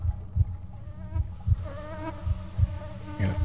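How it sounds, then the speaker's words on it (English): A housefly buzzes close to the ear in a steady, droning whine with pulsing low thumps underneath, rising slightly in intensity toward the end. "I got a fly buzzing in my ear like it's driving me crazy."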